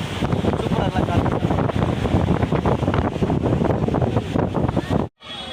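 Strong wind at a beach on the Pamban coast buffets the microphone in a loud, continuous roar, briefly cutting out near the end.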